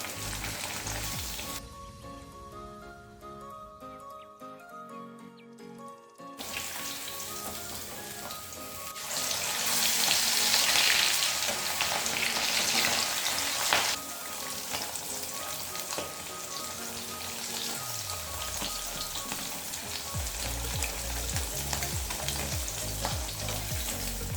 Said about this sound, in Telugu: అప్పుడు కొంచెం మనం ఇలా ఫ్రెష్ చేపలు వేసుకుంటూ మొత్తం వేగుతుంది